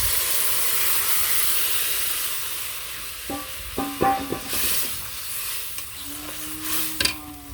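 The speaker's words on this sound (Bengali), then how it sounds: "ভাজা শেষ, এখন তরকারিটা ঢেলে দিই এর মধ্যে।" Vegetable curry is poured into a hot pan after tomatoes have been fried in it: a steady sizzle and hiss, then clattering and splashing bumps from the pouring and stirring, with a short ringing metallic tone near the end.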